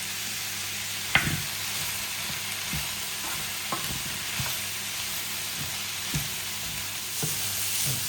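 Vegetables for a chicken and king prawn chow mein sizzle and hiss steadily in a hot pan, with occasional sharp clanks and scrapes of stirring punctuating the continuous frying noise, no voices.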